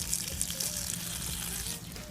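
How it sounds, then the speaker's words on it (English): Muddy water drains and trickles out of a small garden mini pond being cleaned, a steady close liquid rush running throughout. "You see all that mucky water coming out?"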